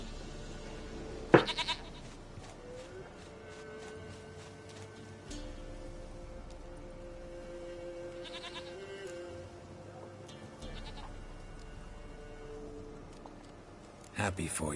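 A goat bleats in the Witcher 3 video game, with short bleats near the start and end over a steady ambient game background, and a voice speaking throughout.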